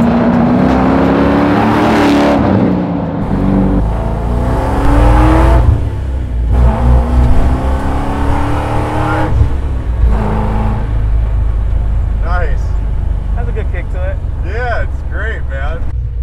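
A 570 hp LS3-swapped Chevy Suburban hot rod with a Tremec transmission, its engine droning loudly throughout and rising and falling as it revs and shifts, with voices talking over the engine.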